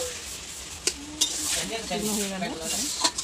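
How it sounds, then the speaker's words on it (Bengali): Kochu (taro) curry sizzling in a pan as sugar is stirred in, a soft frying hiss broken by a few sharp spoon knocks against the pan, with a voice speaking quietly over it. "চিনিটা দিয়ে ভালো করে নেড়ে নিল"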